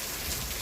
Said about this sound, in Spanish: estoy aprovechando estos momentos que parece que se está aumentando la intensidad de las precipitaciones para grabar